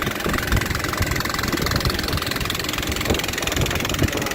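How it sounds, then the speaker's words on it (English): A small Briggs & Stratton engine driving a pump on a farm runs steadily nearby, a continuous loud chugging drone with a rough, knocking texture throughout. "I believe it's Briggs & Stratton, just a little small engine, pumping it into there."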